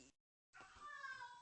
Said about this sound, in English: That was one of my cats.